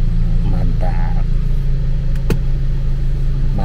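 A Mercedes SLC sports car idles steadily while warming up with its roof open on a bright morning, a low continuous engine rumble running throughout with a voice speaking over it.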